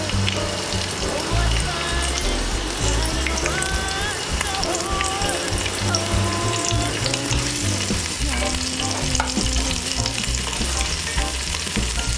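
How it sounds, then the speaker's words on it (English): Onions fry in oil in a pan over medium-high heat, a constant loud sizzle with crackling and occasional stirring, steady throughout, with a voice faintly present underneath. "So I'll just fry this till the onions are a bit translucent"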